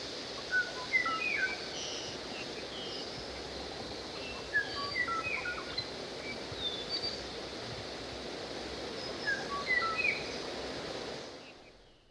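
The extinct Kauai oo, a small Hawaiian bird with yellow eyes and slate-brown plumage, sings short melodic phrases repeated at intervals over a steady hiss of background noise.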